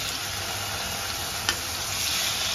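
Paneer pieces sizzle in olive oil in a hot pan with a strong, continuous hiss. One brief tick or clink sounds partway through.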